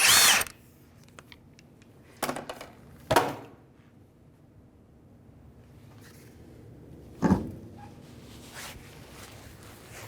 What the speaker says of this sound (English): To remove our wheel, it's going to be a 19mm socket. I'll take our wheel off now.